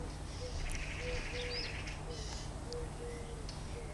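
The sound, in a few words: blackbird whistling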